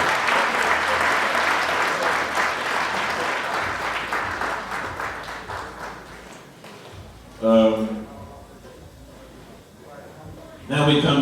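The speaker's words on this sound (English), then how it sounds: "Let's give Howie another round of applause." Dinner guests at a golf foundation's dinner dance and awards evening applaud in a sustained, fairly loud round that fades after about six seconds, followed by a few faint stray claps and a brief burst of voices.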